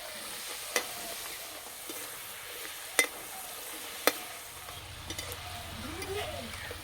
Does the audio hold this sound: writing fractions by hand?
no